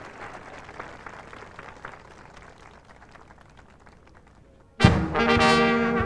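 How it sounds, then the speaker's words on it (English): Audience applause at the 1996 Bix Beiderbecke Jazz Festival in LeClaire Park, Davenport, Iowa: a steady, moderate crowd clatter for several seconds, then a band abruptly starts playing loudly. "Let's give him a big round of applause."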